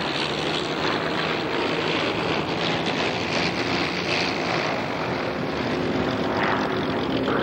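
Propeller aircraft diving toward the crowd centre at about 250 mph and pulling up in a gentle 3G manoeuvre at the Duxford autumn airshow; a loud, continuous engine roar fills the whole stretch without letting up.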